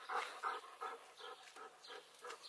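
Puppy dog panting rapidly with soft whimpers mixed in, a quiet steady rhythm of short breaths close by with no talking.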